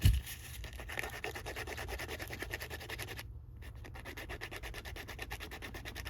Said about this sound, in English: get the sandpaper and just rub it on there